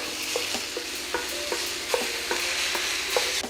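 Ground turkey browning in a pan and being broken up with a square-edged wooden spoon, giving a soft continuous sizzle cut by repeated sharp scraping taps about every half second, close and alone.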